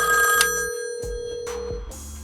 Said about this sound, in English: I've got a thing to shut off the ringer, so it stops ringing.